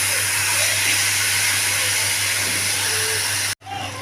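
Taro stolons sizzle in a hot pan, a steady loud hiss with a low hum beneath, cutting out abruptly near the end before a brief quieter resumption.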